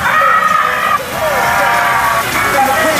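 A bar car drives across the open desert playa at Burning Man, a continuous engine and road rumble with a wavering whine, loud and close, while people talk over it.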